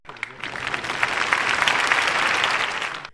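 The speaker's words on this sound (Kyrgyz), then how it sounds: "Анда кол чабуулар менен биз көрсөтүүлөрүбүздү баштасак." An audience at a poetry event honoring poet Baidylda Sarnogoev breaks into applause, a dense wash of clapping that swells and holds for about three seconds before stopping abruptly.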